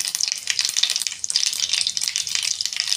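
Mustard seeds and cumin crackle and sizzle in hot oil for a Maharashtrian amla chutney tempering, a dense, steady hiss with rapid fine pops, close and moderately loud, with no talking.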